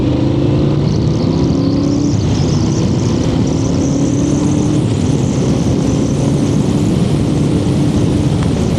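A Yamaha V Max 1200cc motorcycle engine holds a loud, steady drone at road speed, thick with wind rush, and no voices are heard over it.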